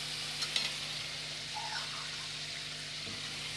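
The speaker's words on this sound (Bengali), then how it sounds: "এই যে আবার এখানে অল্প একটু জল দেব" Potatoes frying in a pan with a small spoonful of water added, giving a steady close sizzle and hiss with faint stirring scrapes throughout, no talking over it.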